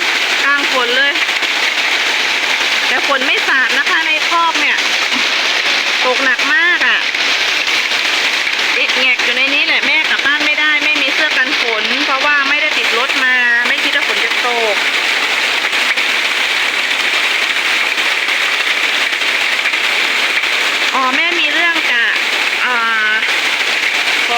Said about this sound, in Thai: ฝนตกหนักมากเลยค่ะ